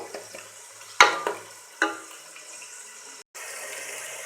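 Tomatoes and chopped green chillies fry for qeema with a soft sizzle, punctuated by a few sharp spatula knocks and scrapes against the pan, then a brief pause.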